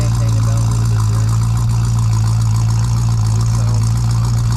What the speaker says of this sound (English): This is the heartthrob exhaust coming right out the back. Sounds really good going down the road.